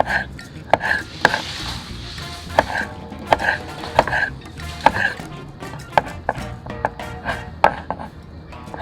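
A knife chops a tomato on a cutting board for guacamole, giving a steady run of sharp, close taps and thuds at an irregular rhythm with no voices.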